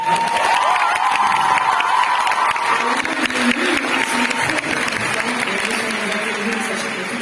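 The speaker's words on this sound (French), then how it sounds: "Donc on peut les applaudir." A concert audience in Mons applauds the backstage and control-room crew, sustained loud clapping and cheering from a large crowd that fades slightly toward the end, with a voice briefly over it.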